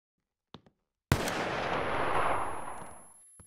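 Gunfire from guns in a Roblox ACS Engine 2.0 game: a couple of faint clicks, then a sharp loud shot that rings out into a long, rolling echo tail fading over two seconds, with a small click at the end.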